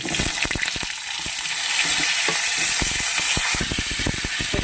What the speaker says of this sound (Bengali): ফোড়নটা একটু ভাজা হোক